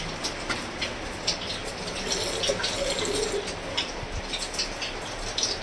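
Heavy rain pouring outside at a work site shuts down the day's job, a steady dense hiss of drops and running water throughout, fairly close, with no voices.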